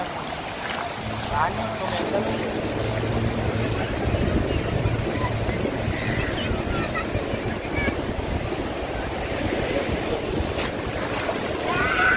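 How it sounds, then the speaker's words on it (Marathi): Big ocean waves roll and break onto a Goa beach, a continuous loud wash of surf mixed with buffeting wind noise on the microphone, while voices murmur faintly in the background. "बघा लाट खूप मोठे मोठे येऊ लागलेत"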